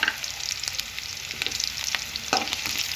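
Cashew nuts fry in hot oil in a pan for chicken curry, a steady close sizzle with crackles and light stirring scrapes throughout, no voices.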